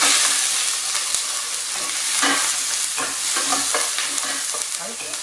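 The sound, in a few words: chicken wings and garlic stir-frying in a pan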